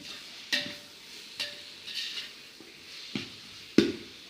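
Salted onions stirred in a pot for chicken biryani, a few sharp spoon scrapes and clinks against the pot at irregular intervals over a faint sizzle, quiet and close.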